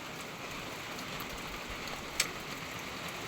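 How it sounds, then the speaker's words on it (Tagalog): Steady rain that has been falling all night, a continuous even hiss of drops on surfaces with one brief louder splash, moderately faint and unbroken. "kagabi pa ito umuulan until now"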